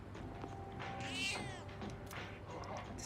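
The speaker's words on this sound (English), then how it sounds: "This cat looks very weak." A weak, hungry cat in the video game Persona 3 Reload gives a single thin meow over soft game background music, fairly faint and alone.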